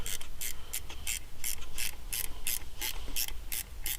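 A ratchet clicks in quick, regular bursts while screwing the ignition control module wiring back in on a GM 3800 engine, a close, crisp repeating tick with short pauses between strokes.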